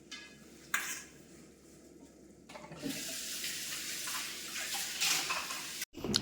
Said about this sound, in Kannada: ಸೊ ಪಾತ್ರೆ ಎಲ್ಲ ತೊಳೆದ್ಬಿಡ್ತೀನಿ.